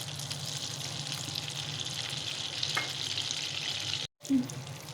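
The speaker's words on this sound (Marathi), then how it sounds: "याचं पहिलं 2 चमचे बटर टाकून घ्यायचं आणि 2 चमचे तेल टाकायचं." Butter and oil heating in a pan for tempering, giving a steady close frying sizzle throughout, broken by a very short gap of silence near the end and followed by a brief soft clink.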